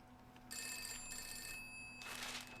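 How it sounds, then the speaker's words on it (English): An electronic telephone bell from a Doctor Who episode rings in two short trilling bursts, followed by a brief noisy rush, at moderate loudness over a low steady hum, with no speech. "Phone!"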